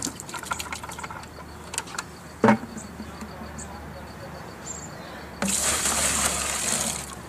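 Water splashed into a bucket to rinse it out while working a gold-prospecting black sand concentrator outdoors, a brief hiss of pouring and sloshing water at the end after quieter clinks and background hum.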